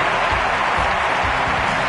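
A packed Olympic stadium crowd at London 2012 applauds a javelin world record throw, a dense, loud roar of clapping and cheering that fills the space evenly from start to finish.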